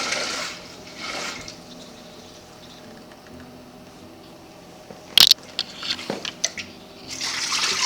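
Water is poured into a pressure cooker pot holding oxtail for jollof rice, starting quietly, then a sharp clatter, then splashing and trickling patter that builds toward the end.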